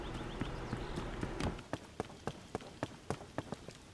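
Steady rain patter from Zelda: Tears of the Kingdom, soft and continuous, with sharp rhythmic taps, like hooves or footsteps, running through it in the second half. No talking.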